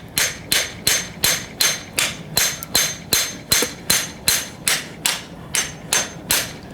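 A hammer taps a Honda Civic coilover down during a turbo Civic suspension install, about sixteen sharp metallic strikes in a steady, even rhythm, close and loud with no talking.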